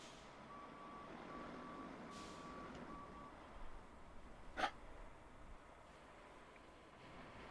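Truck reversing beeper in the Roadcraft driving game, a faint steady beeping tone under rumbling engine and ambient noise, with a brief louder thump midway.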